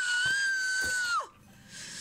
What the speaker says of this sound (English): Prepare your ears, it's blood curdling scream time.